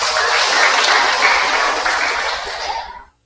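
Applause from a church congregation during a sermon, a dense, steady patter of many hands clapping together for about three seconds before stopping abruptly.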